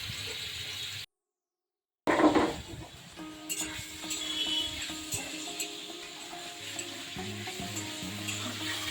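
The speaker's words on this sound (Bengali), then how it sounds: "হালকা করে ভেজে নেব, নুন হলুদ দিয়ে। মাশরুম আর আলুটা ভাজার পরে আবার আসছি।" Mushroom and potato pieces frying with salt and turmeric in a pan, a close sizzle that cuts out for a second, then returns with stirring and light clatter, no voices.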